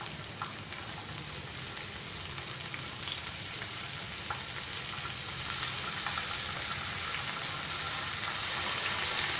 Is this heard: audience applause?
no